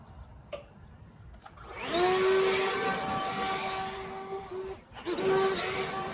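A leaf blower starts up and runs with a high, whining roar after a few faint knocks, holding steady, briefly dipping, then surging again; it is loud and close during a morning mow.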